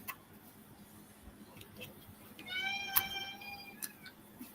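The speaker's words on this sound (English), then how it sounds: "Is that a kitty?" A pet cat named Thor gives a single thin meow with its overtones, around the middle of the clip. It sounds faint against the quiet room noise, and brief ticks and clicks are scattered around it.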